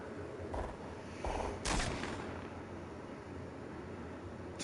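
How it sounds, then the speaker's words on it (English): A few distant muffled gunshots crack at irregular intervals over a steady background hiss in a PS4 video game. "Telltale sign of gunfire."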